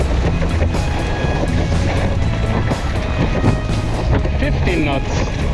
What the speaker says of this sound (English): The wind is like this.